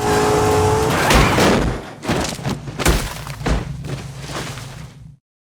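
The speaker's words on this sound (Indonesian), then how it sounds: "Tiba-tiba sedan orange yang dulu sempat dicurigai oleh Travis muncul dan menyapu 2 orang kenalan McNabb tersebut" An orange sedan in a TV drama scene drives in and strikes two people: an engine surge followed by several heavy thuds and impacts, loud and close, ending abruptly.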